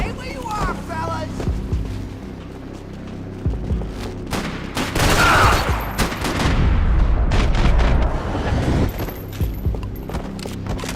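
Rapid bursts of automatic gunfire and heavy shots in a Max Payne 3 firefight, loud and close, with shouted voices mixed in among the shooting.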